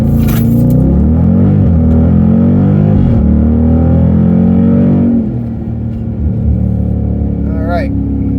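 A car launches hard from a standstill in a 0 to 60 acceleration run, its engine roaring loud and close, pitch climbing steadily and dropping at each gear change.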